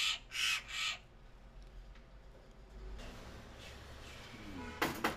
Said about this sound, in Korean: 탈진으로 쓰러져 있었다는 어치는 이제 제법 기운을 차렸다.